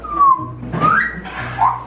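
A parrot mimics a dog's bark with short whistly yelps and whimper-like calls, several brief bursts over a quiet indoor background.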